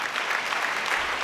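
A church congregation applauding during a Kinyarwanda sermon by a pastor, a dense, steady wash of many hands clapping together, close and continuous for the whole brief moment.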